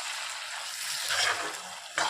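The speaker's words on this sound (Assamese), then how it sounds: "মাংসখিনি বিলাহী পিঁয়াজ সিজি গৈছে" Pork with tomato and onion sizzling in a pan, a steady close hiss of frying with a few brief stirring scrapes near the end, without talk.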